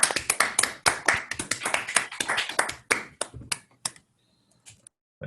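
A lecture audience applauds after a talk with dense, close clapping for about four seconds, thinning into scattered claps before stopping.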